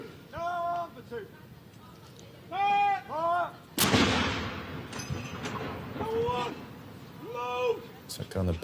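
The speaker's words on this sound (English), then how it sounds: "the cannon are firing to mark the occasion" Ceremonial cannon salute in Hyde Park, London, marking a royal proclamation: one loud booming blast echoes and rumbles away, heard amid voices talking before and after.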